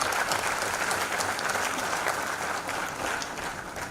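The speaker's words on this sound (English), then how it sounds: "shall we give a round of applause to the faculty as well as parents also?" An audience at a school graduation ceremony applauds the faculty and parents, a dense, even wash of clapping from a large crowd, sustained and moderately loud throughout.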